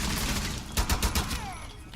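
Several quick gunshots from Rainbow Six Siege defenders firing near the middle of a busy, noisy exchange, a short cluster of loud cracks over steady background din, no voices.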